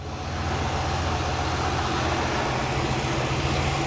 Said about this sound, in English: It is running quite well. No misfires, no flashing check engine lights. Nice and smooth